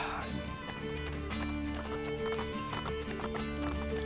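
A horse gallops in Assassin's Creed Brotherhood, its rapid clip-clop hoofbeats running steadily under game music with a whinny near the start.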